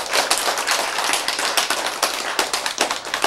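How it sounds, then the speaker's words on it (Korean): Lecture-hall audience bursting into dense, continuous applause, many hands clapping close and loud for several seconds without pause. "박수!"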